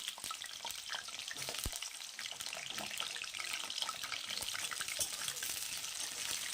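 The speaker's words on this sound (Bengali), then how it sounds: "আলুগুলো লাল লাল করে ভেজে নেব।" Potatoes fry in hot oil for a spicy chicken dish, a quiet, crackling sizzle with scattered pops and stirring scrapes, fairly soft and continuous without any talking.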